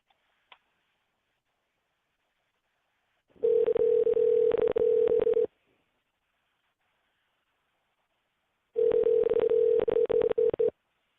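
A telephone line plays a tone while a caller is being added to a call. Two steady two-second tone bursts are separated by silence, close and clear, with no voices.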